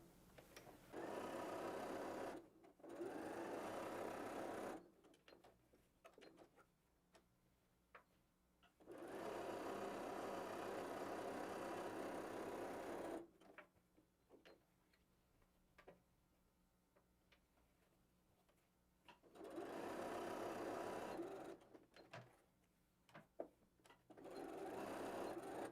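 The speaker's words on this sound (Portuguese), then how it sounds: "vai costurar a lateral, o fundo, a outra lateral e vai deixar uma abertura aqui do lado para poder desvirar essa peça" A sewing machine stitches the sides and bottom of a fabric bag in three long, steady runs of motor hum and rapid needle ticking, separated by quieter pauses full of small handling clicks.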